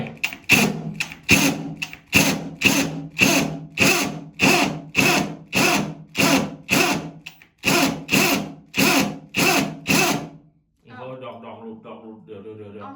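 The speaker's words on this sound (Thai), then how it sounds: "ก็เราจะเจาะอันนี้เลยนะครับ" A power drill grinds into hard ceramic wall tile in a long series of rhythmic bursts, loud and close, then stops as a voice speaks.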